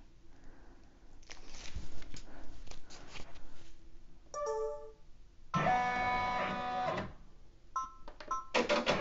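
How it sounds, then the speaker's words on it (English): An embroidery machine stitching the placement outline for an applique treat bag, with bursts of rapid mechanical clatter and whirring separated by short pauses, close and without voices. "So it's going to do the placement stitch"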